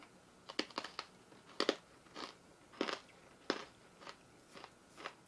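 Crisp crunching bites of stale freeze-dried candy, about ten sharp crackly bursts in an uneven chewing rhythm, close and fairly quiet, with no talking.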